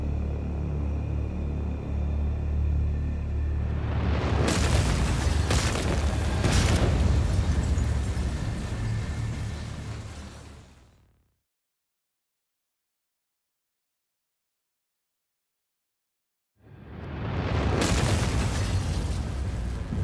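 A laboratory explosion erupts as a heavy, roaring blast that builds from a low rumble and rolls on for several seconds before cutting to dead silence, then a second loud burst of roaring noise breaks in.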